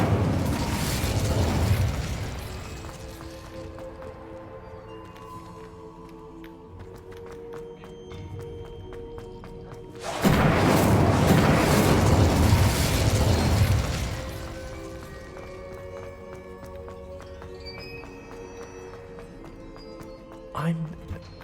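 Two heavy fiery bursts from the Incendio fire spell in a Hogwarts wizarding video game, each a loud whooshing blast a few seconds long separated by quieter ambient game sounds, with a small pop near the end.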